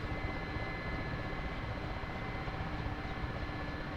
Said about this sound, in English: I'm going to go ahead and land this and spawn a new helicopter.